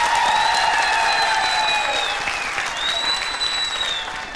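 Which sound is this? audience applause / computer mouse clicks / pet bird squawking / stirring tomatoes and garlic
audience applause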